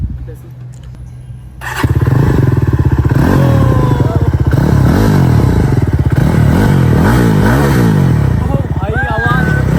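A new motorcycle's engine starts after a short quiet lead-in, then idles and revs repeatedly up and down, loud and close, while people talk over it.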